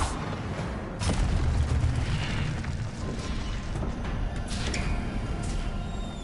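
An Incendio fire spell cast in the video game Hogwarts Legacy, a sudden whooshing burst followed by a sustained roaring rumble of flame, moderately loud with scattered crackles.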